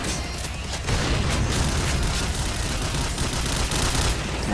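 Dense, continuous gunfire and bursts from the shooter game Point Blank, loud and close, with rapid overlapping shots and booms filling the whole stretch.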